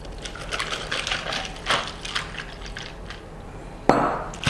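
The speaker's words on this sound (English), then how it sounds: "And now to pour into our glass of 22 ounces." Thai milk tea is poured into a 22-ounce glass, making a continuous liquid splash with faint clinks, then a sharp louder knock near the end, with no voices.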